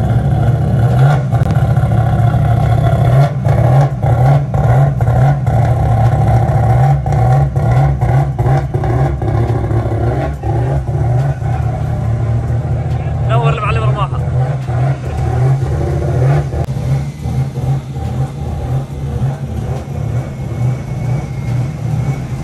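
A BMW E36 fitted with a Toyota 1JZ engine idles and revs loudly and steadily up close, a deep continuous engine rumble with small throttle surges while people talk over it.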